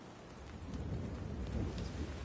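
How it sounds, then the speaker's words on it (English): A rain-soaked thunderstorm in the Far Cry 5 map editor, with steady rainfall hissing throughout and low thunder rumbling continuously in the background, fairly quiet and without voices. "Like you can hear it thunder in the background."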